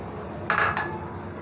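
A utensil scrapes egg paratha batter from a metal cooking pot to clean it out, giving a short, close clinking scrape of under a second against a quiet kitchen background.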